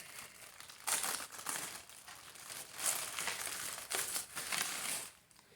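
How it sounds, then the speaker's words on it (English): A plastic bag holding a roll of butyl tape is crinkled and tugged while being forced open, continuous close crackling and rustling bursts that stop abruptly near the end. "I can't get the bag open on the butyl tape."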